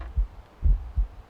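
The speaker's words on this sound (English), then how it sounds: "Oh, I can hear heartbeat." Heartbeat from the Shadow Man N64 video game, a few deep, muffled thumps in a slow lub-dub rhythm over a low hum, with no talking.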